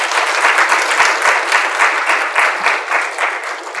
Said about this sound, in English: Can you please give yourselves a round of applause?